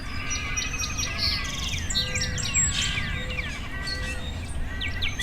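Dawn chorus with Northern Cardinal and Song Sparrow among several birds chirping and whistling in overlapping phrases over a low steady outdoor hum, moderately loud and continuous.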